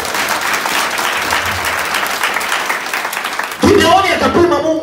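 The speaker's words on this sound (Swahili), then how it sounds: "Patia Bwana makofi mazuri." Church congregation applauding at a mission gathering in Nyamira, Kenya, sustained dense clapping from a large crowd, joined partway through by a loud voice speaking over it.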